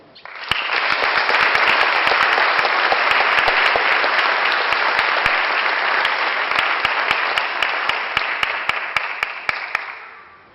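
Sustained audience applause at a ribbon cutting and dedication ceremony, a dense, steady wash of many hands clapping for about ten seconds before tapering off at the end.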